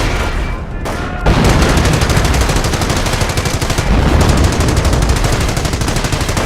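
Heavy gunfire from a Company of Heroes battle, rapid machine-gun bursts and rifle shots crackling loud and continuous after a brief quieter opening.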